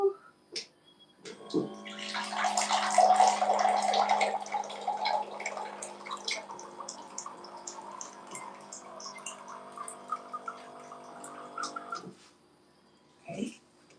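A tap runs water in a steady, hissing flow for about ten seconds, preceded by a few small clicks and knocks, then shuts off abruptly; a faint knock follows afterward.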